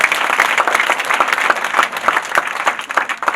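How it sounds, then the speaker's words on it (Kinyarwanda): Congregation applauding at an ADEPR church prayer service, dense rapid hand clapping from many people, loud and continuous. "Mukomere Imana amashyi"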